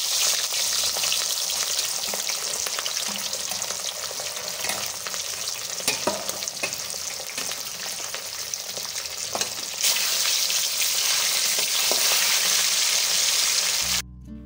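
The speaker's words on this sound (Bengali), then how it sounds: "এইরকমভাবে বাকি মাছগুলোকেও আমি ব্যাচ ওয়াইজ ভেজে নেব" Pieces of katla fish fry in hot oil, a loud, continuous sizzle and crackle with occasional sharper pops, running steadily without any talking.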